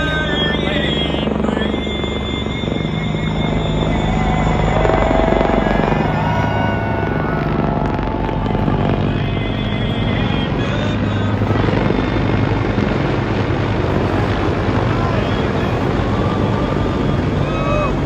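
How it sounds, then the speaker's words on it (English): A heavy military helicopter from Marine Heavy Helicopter Squadron 461 flies over North Wilkesboro Speedway, its loud, steady rotor roar filling the whole stretch. The noise swells slightly as it passes overhead, with some wind rumble. "thank you to the Marine Heavy Helicopter Squadron 461 for tonight's flight"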